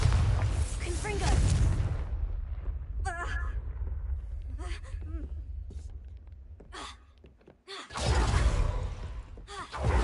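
Spell explosions from the Bombarda and Confringo spells in the Hogwarts Legacy video game: loud booming bursts at the start and again near the end, with short magical whooshes and game voices in between.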